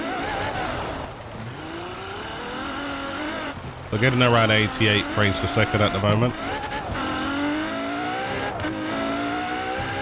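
A limited-edition car with Deadpool paint drives in Forza Horizon 4, its engine rising and falling in pitch, then a loud revving surge. Someone talks over it throughout.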